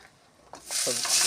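A raw amudi fish is laid into a pan with a little oil tempered with black cumin, and a bright sizzle swells up after a quiet start, rising fast and holding loud to the end.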